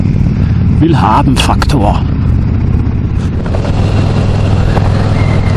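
A Harley-Davidson Road King Special motorcycle riding along, its engine a loud, steady low rumble mixed with heavy wind buffeting, while a rider talks briefly over it.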